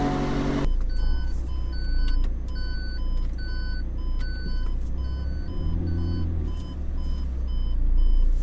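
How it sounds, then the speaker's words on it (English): A car's warning chime for low tire pressure and low fuel, likely inside a McLaren 720S, sounds as a series of clear, evenly spaced electronic beeps over a low engine rumble. "I'm beeping because I'm low on tire pressure and I'm low on gas"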